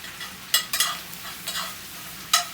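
Corned beef fries in a pan for hash and is broken up with a utensil: a steady hiss of sizzling broken by a few sharp scraping stirs, close and alone.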